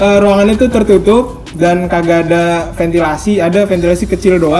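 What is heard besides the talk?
No everyday noises stand out.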